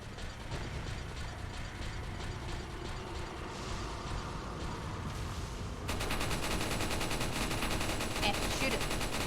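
Gunfire in a Resident Evil game, rapid mechanical rattling bursts that run continuously and grow louder and denser partway through.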